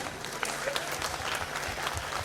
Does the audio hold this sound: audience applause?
yes